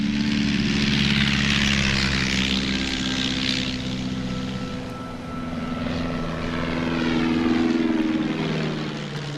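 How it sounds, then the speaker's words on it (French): Swordfish biplane torpedo bombers take off from the British aircraft carrier Ark Royal, with a loud, steady propeller-engine drone that swells and recedes as the planes pass, and no voices. "Une escadrille de 15 bombardiers britanniques Swordfish décolle alors du porte-avions Ark Royal."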